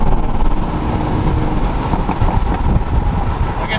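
A modified Toyota Supra's engine roars steadily up close, loud and continuous, with rumbling exhaust pops and crackles scattered through it.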